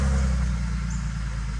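A BMW E46 engine idles quietly after an exhaust welding repair, giving a steady, low, even hum with a faint rumble and no revving for a moment.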